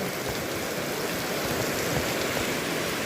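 Early-morning rain falls steadily, a continuous close hiss of drops pattering on surfaces, unbroken and even, with no one talking.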